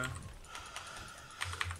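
Quiet, quick computer keyboard clicks come in a short irregular burst, with a couple of sharper keystrokes near the end, during a Heroes of the Storm gaming session.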